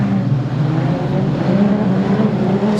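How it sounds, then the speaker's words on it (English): Production sedan race cars roar away together at a green-flag start on a speedway oval, a dense, steady engine drone with no clear passes or gaps, loud and continuous throughout. "Set to go, green and racing in the opening event for the production sedans, and they're 2 and 3 wide as they go into turns 1 and 2"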